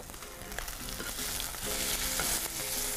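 Chicken frying in a pan, a dense continuous sizzle that swells slightly louder toward the end, close and steady with a few faint clinks and no voices.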